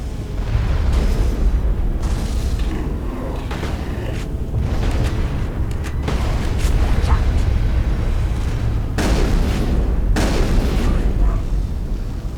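Carnage shotgun power from Mass Effect 2 firing one big blast amid dense combat noise, with booms, gunfire and explosions layered over a continuous loud battle bed and talk running underneath.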